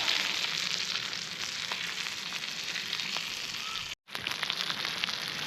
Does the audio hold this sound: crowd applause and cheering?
no